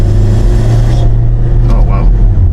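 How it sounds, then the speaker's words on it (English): A car engine runs badly and loses turbo boost, a loud, rough low rumble that drones continuously, with the upper whine fading partway through. "Oh, wow. That sounds really terrible. Do you guys hear that? Sounds like we're losing all our boost."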